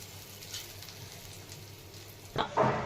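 Hot tadka with asafoetida is poured over spinach khichdi: a faint background gives way to a sudden burst of bright, crackling sizzle near the end, close and louder than what came before.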